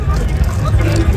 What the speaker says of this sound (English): Large crowd.